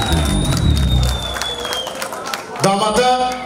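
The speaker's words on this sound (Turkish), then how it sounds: "Alkışlar!" Wedding guests clap and cheer at a lively ceremony, the crowd noise mixed with loud music and tonal sounds, while voices carry over the clapping.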